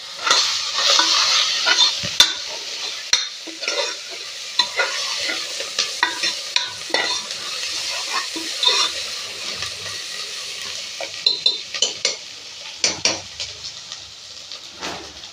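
Telangana-style mutton curry is stirred in a pan, with frequent scraping and clinking of the spoon over a constant frying sizzle.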